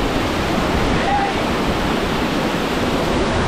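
Rushing water at Amboli waterfall in Maharashtra, a dense, steady roar filling the scene close by, loud and unbroken with no clear voices.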